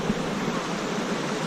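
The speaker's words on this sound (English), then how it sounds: "Little waterfall to the left." A small waterfall beside a rafting river in Costa Rica pours with a steady, even hiss of rushing water, close and continuous with no voices.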